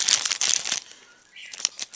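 Plastic bag holding first-aid supplies crinkles loudly up close, rustling for most of a second, then a short pause before softer crackling handling resumes.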